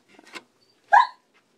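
A dog gives a single sharp bark or yip, loud and close, after a few softer indoor sounds, then silence.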